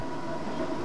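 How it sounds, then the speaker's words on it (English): A train rolls through the Spanish countryside, giving a steady, even rumble of rail travel heard from inside the carriage, with no talk over it. "we're traveling through Spain by train."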